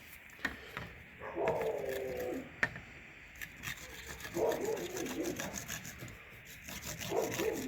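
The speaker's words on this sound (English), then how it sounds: "I'll try and drill holes through it and use pop rivets to hold some of these" A drill grinds through polyethylene plastic in short bursts of whining, rasping contact, separated by pauses and handling knocks, fairly close and with no talk.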